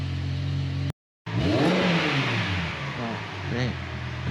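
A Ferrari 348 engine on a cold start revs up in a few quick, rising bursts, loud and close, after a short break in the sound, with people talking over it.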